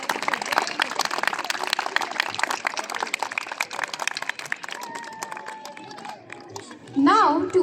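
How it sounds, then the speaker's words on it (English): A school crowd claps at a Republic Day celebration at JMK International School, Pathankot, dense and lively for several seconds, then the clapping thins as a voice speaks over a public address. "A big salute and round of applause for such an energetic performance."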